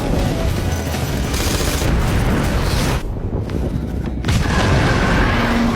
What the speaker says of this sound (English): Artemis senses the danger and immediately orders her team to get in the vehicles and leave while she wildly fires her gun.